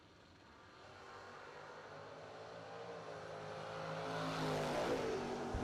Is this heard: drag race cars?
yes